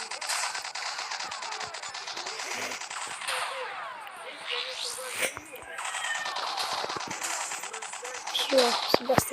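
Rapid bursts of gunfire from the video game Combat Of Cyber Sphere, dense and continuous with sharp crackling shots throughout, loud and close, with a heavier burst near the end.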